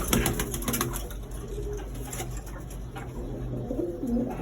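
Male breeder pigeons, among them a silver male, coo nearby in low repeated calls over a steady background hum.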